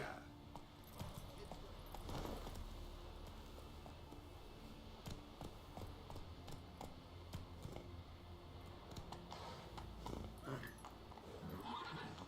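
Horse hooves clip-clop at a gallop with a neigh in The Witcher 3, a steady hoofbeat rhythm close by under game music and ambience.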